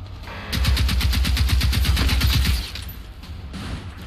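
Automated turrets at an enemy base in Generation Zero fire a rapid, evenly spaced burst of about two seconds, loud and close, with mechanical clatter and a fainter second burst after.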